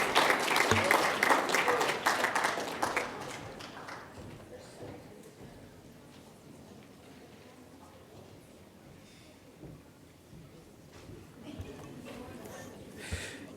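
Audience applause at a student leadership awards ceremony, a loud burst of many hands clapping that fades after a few seconds into a quieter room with scattered sounds and speech.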